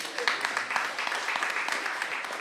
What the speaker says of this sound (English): Please give my lovely boyfriend a round of applause.